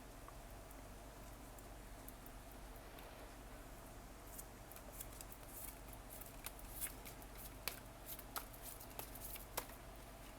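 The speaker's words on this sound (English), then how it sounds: "Third shuffle, and no cards fell out" Faint, close rustling and soft riffling, with quick crisp flicks of cards growing more frequent toward the end, over a quiet steady hum.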